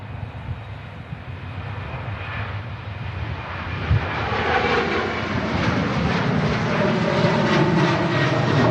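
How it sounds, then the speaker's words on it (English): An airliner departing Manchester Airport roars with a broad, steady engine rumble that swells louder through the second half, with no voices over it. "Just going to quickly capture this two-way departure for you before this taxi's passed."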